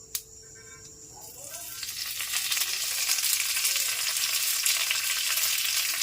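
Black mustard seeds and curry leaves hit hot oil, and a sharp sizzle swells over the first couple of seconds into a loud, steady crackling hiss that holds to the end, close by, with no talking.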